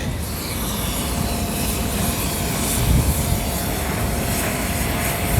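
A Starlux Airbus A350 airliner flies past at an air show, a loud, steady jet roar that swells slightly midway, with no voices over it.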